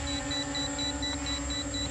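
A ZDO15 Pro robot's obstacle sensor gives a steady train of short, evenly spaced high beeps, about eight in a row, over a constant electronic hum.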